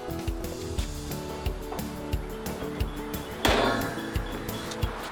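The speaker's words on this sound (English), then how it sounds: "get these charcoal grates put on the grill" Metal charcoal grates are set onto a King-Griller Gambler portable charcoal grill, giving a run of close, sharp metallic clanks and scrapes at an uneven pace, with one louder rattling clatter partway through.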